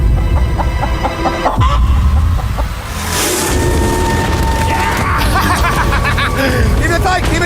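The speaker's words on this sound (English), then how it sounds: "Oh, this chicken's actually pretty chill." Chicken clucking amid a busy crowd of voices and shouting outdoors, with occasional thumps and loud bursts of commotion throughout.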